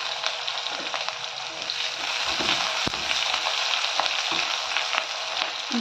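Whole spices, green chili, green garlic and a little onion frying in a pan for veg pulao, with a steady close oil sizzle and occasional stirring scrapes, no talk.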